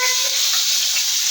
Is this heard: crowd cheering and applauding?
no